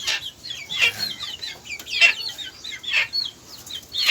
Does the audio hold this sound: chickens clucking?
yes